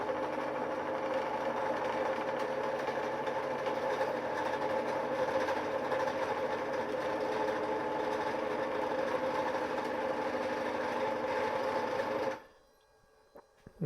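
A small wooden stick spinning on a lathe, a steady loud whirring motor drone with a faint buzzing edge that runs continuously and then stops abruptly near the end.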